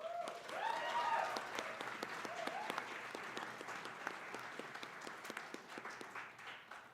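Audience applause at a gaming awards ceremony, a steady wash of clapping lasting several seconds with sharper individual claps standing out, accompanied by a few faint whistles or cheers in the background.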